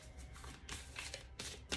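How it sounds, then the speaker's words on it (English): Tarot cards being shuffled by hand in several quick riffling bursts, close and crisp, with brief pauses between them and no talking. "All right, one more shuffle."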